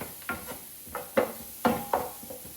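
Onions cooking in an electric skillet at about 275 degrees, a soft low sizzle under a series of distinct stirring clacks and scrapes, roughly five or six spaced knocks close by.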